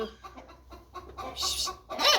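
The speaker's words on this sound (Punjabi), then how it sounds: "ਮੁਰਗੀਆਂ ਦੇ ਵਿੱਚ ਆਪਾਂ ਬੈਠੇ ਸੀ ਤੇ ਮੁਰਗੀਆਂ ਆਪਣੀਆਂ ਜਿਹੜੀਆਂ ਆਵਾਜ਼" Several hens cluck and squawk close by in short, irregular bursts, fairly loud and busy.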